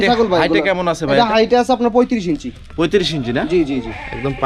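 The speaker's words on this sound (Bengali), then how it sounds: "এটা অনেক বড় একটা ছাগল" A large goat bleats loudly and repeatedly up close, its wavering cries filling the clip with brief pauses between calls.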